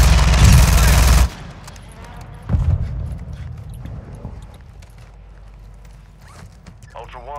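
Gunfire in the Call of Duty video game on Ashika Island: a loud dense burst of shots in the first second, then a shorter burst at about 2.5 seconds, followed by quieter scattered game sounds.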